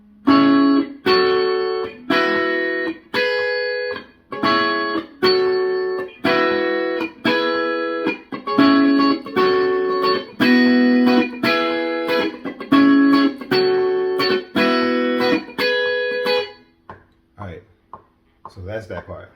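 Electric guitar strums the rhythmic chorus pattern of a song, a 6-2-5-1 chord progression, in short choppy bursts with a steady syncopated pulse, close and fairly loud, ending with a few quieter scrapes.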